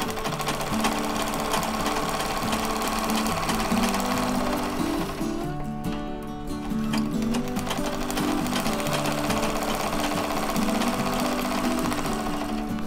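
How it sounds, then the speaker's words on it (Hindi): A sewing machine running with no thread, stitching through paper for practice: a loud, continuous fast mechanical rattle and hum that barely varies, with a brief dip in the middle, close and without talk. "तो आपको अभी खाली ही मशीन चलानी है और इस तरीके से आपको सिलाई की प्रैक्टिस करनी है, मतलब कि मशीन चलाने की प्रैक्टिस।"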